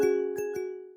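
A clean notification bell rings three times, each bright ding ringing on with a steady sustained tone that fades slowly, standing alone with no talk.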